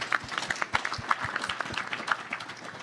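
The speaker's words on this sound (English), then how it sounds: "if you guys can give a round of applause to the teachers and school officials" Audience applause for teachers and school officials at a student mental health event, a steady patter of many hands clapping throughout, moderately loud with no talking over it.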